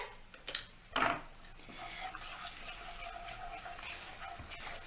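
Red chili pickle mixture stirred in a pan over a low flame, two short spoon scrapes at the start, then a soft steady sizzle, faint and close.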